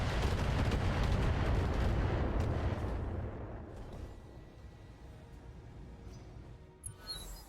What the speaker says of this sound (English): If you're gonna fire missiles, fire a shitload of missiles.